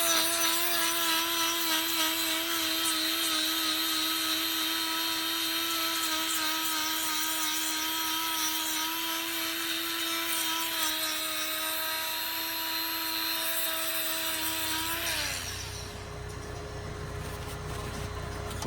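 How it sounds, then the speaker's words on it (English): A handheld grinder whirs steadily and loudly while trimming a cow's hoof, holding a constant high-pitched motor whine for most of the time before spinning down and stopping near the end. "I'm going to actually get the grinder back out"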